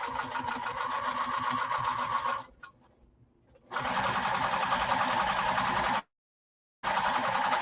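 Sewing machine stitching fabric for a slouch bag, a close, fast, steady mechanical whir run in bursts with a brief pause and a sudden stop before it starts again.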